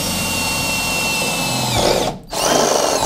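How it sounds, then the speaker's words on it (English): A power drill whines steadily at high speed as it bores through truck bed metal, a close, loud motor tone that briefly dips near the end before spinning back up. "we'll just drill a little hole through here"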